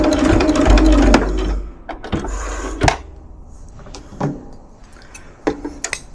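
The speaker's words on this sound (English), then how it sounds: "Just past that seam, and I'm going to back stitch." A sewing machine back stitches just past a seam while sewing a fabric bowl cozy. It gives a loud burst of whirring, then short separate clicks and mechanical knocks with quiet gaps between them.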